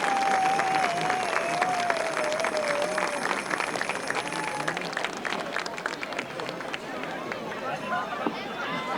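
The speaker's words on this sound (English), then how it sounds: "a nice round of applause for the East Brunswick Marching Band" A crowd at a high school football game applauds and cheers for the East Brunswick marching band, a broad, continuous roar of clapping from the stands with a faint tone and murmuring voices underneath.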